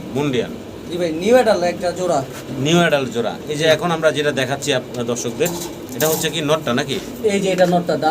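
Pigeons coo softly in the background while people talk over them almost continuously, so the birds sit low beneath the voices.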